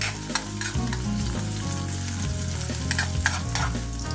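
Food stirs and sizzles steadily in leftover frying oil in a pan, a continuous close crackle with scraping stir sounds and no talking.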